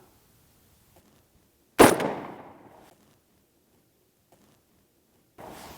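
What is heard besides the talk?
rifle firing with Velocity recoil-less bolt carrier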